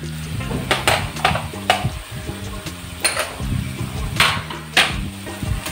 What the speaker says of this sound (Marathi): आता हे मसाले आपल्याला थोडेसे याच्यात परतून घ्यायचे